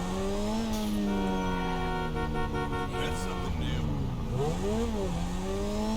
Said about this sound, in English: You hear that hissing noise? That's the turbo gas.